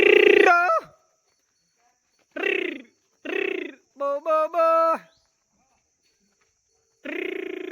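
Thirsty cows at a rural water trough, fed with water drawn from a tank in buckets, give several loud, close moos in separate bursts with quiet gaps between them.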